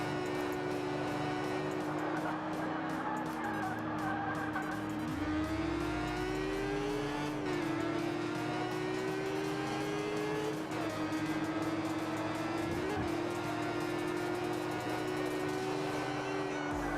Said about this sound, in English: we have our Mustang in there